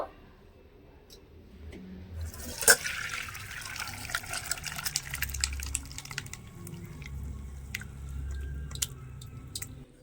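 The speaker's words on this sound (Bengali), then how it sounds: "সঙ্গে সঙ্গে কিন্তু ছানাটাকে ছেঁকে নিতে হবে" Curdled milk (chhena) for a date-palm jaggery sandesh being poured through a strainer, liquid whey splashing and trickling steadily with a sharp clink near the start, close and alone without talk.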